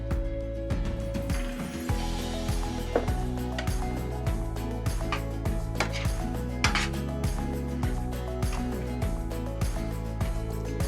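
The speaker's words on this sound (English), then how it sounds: "And let's stir that in." A spinach and feta spanakopita filling stirred in a bowl, a utensil scraping and clinking against the sides in a steady repeated rhythm, close and moderately loud, with no talking.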